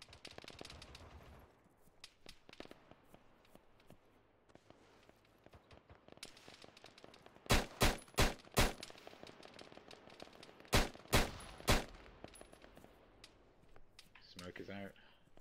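Automatic fire in Arma 3 comes in two tight groups of loud, sharp reports, three or four shots each, under a steady background rumble and scattered quieter pops. The battle sounds continue a little after the second burst.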